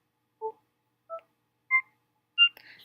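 A computer plays short electronic tones whose pitch follows the height of a graph as a mouse moves across it: four clean beeps rising step by step in pitch, evenly spaced, then a brief buzzier burst.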